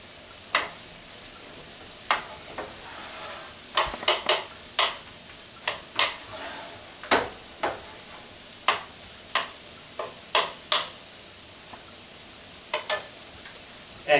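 Onions sauté in a very hot pan on a stovetop burner, a soft sizzle broken by frequent sharp clicks and scrapes of stirring at an irregular pace, close and with no voices.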